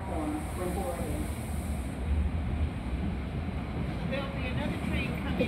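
NJ Transit train approaching Ridgewood, New Jersey station on a cold November day, a steady low rumble and hiss building with wind noise across the platform, people talking nearby.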